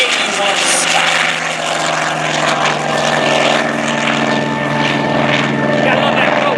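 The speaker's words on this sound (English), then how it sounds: "on takeoff roll from right here at Quonset Point, this airplane flew in active duty service right here, the Collings Foundation's A-1E Skyraider." The Collings Foundation's A-1E Skyraider, a piston propeller warplane, roars loud and continuous on its takeoff roll at Quonset Point during a Rhode Island Air National Guard airshow, its heavy engine drone steady throughout, with crowd noise underneath.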